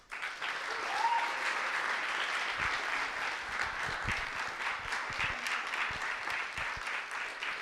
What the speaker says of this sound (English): I would just like everybody, please, to just put your hands together with a massive round of applause.